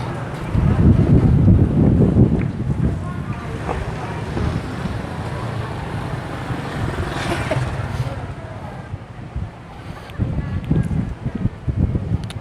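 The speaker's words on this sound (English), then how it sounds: "So it's quite windy" Gusty wind in Indonesia buffets the microphone with a loud low rumble, strongest at the start and again near the end.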